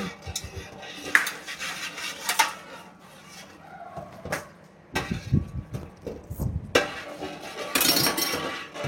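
A metal utensil stirs and scrapes inside a cooking pot, giving irregular clinks and knocks that come close together in bursts with brief pauses between them.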